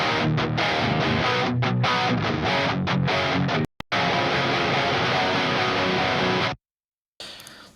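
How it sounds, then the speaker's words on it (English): Heavily distorted rock/metal electric guitar through two blended amp plugins, played in loud chugging bursts and sustained chords that cut out abruptly near the middle and end, followed by a brief quieter tail. "Now these both together, just giving you a bit of context of how blending these two amps sound."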